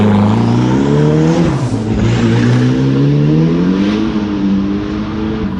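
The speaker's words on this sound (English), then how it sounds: "The car launched off the starting line without issue" A turbocharged hillclimb race car launches off the starting line on a mostly dry track with damp patches, its loud, close engine revving hard and climbing in pitch, dipping briefly at a gear change before pulling upward again, with no voices.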